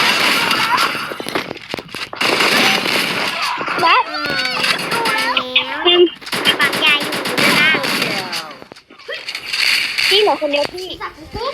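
Rapid automatic gunfire and bursts of shots from the mobile battle-royale game Free Fire, loud and near, with excited voices talking over the shooting throughout.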